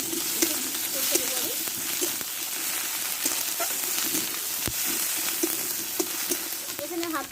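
Ginger-garlic paste fries in oil with lightly browned onions for a prawn and Malabar spinach dish, making a continuous sizzle with scattered spatula scrapes and clicks, a voice talking over it.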